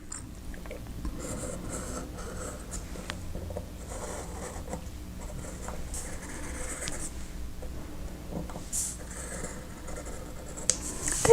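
A drawing compass swivels around on paper, giving soft, faint scratchy strokes that repeat in short passes with small clicks, close and quiet with no talking.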